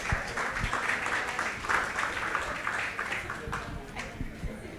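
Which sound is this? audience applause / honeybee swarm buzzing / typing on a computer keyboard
audience applause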